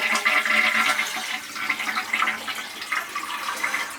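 An older toilet with a floor leak is flushed to drain its water, a loud rushing gurgle close by that fades slightly and keeps swirling for several seconds, alone without talk.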